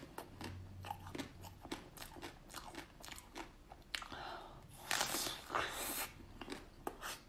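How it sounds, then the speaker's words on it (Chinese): Quiet, close crunching and biting on frozen fruit and ice, some pieces filled with jam, with sharp irregular bites followed by a louder stretch of crackly chewing. "我吃这个吧，这个冻了哈，我尝一尝"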